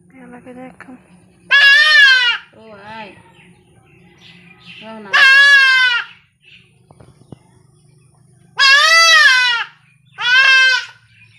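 A goat injured after being hit by a vehicle bleats loudly and close by. Four drawn-out, wavering cries come at intervals, with people talking quietly between them.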